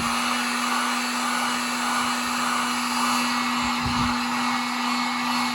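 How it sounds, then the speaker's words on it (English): A heat gun blows steadily on a tumbler being coated with liquid crystal, a constant loud whooshing hum with a fixed motor tone, running alone without pause. "And we're gonna hit it again with the heat gun."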